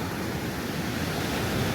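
Ocean surf at Ao Nang beach in Thailand washes in as a constant broadband roar, with wind buffeting the microphone and no voices.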